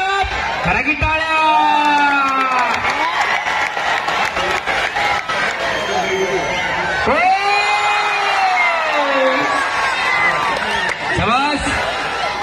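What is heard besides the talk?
crowd applauding and cheering at a wrestling match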